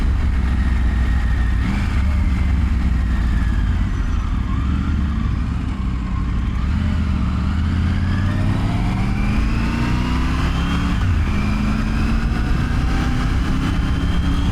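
A motorcycle with a smaller engine rides twisty roads, its engine note loud and steady with repeated rising and falling pitch sweeps as it accelerates through gears under rushing wind noise.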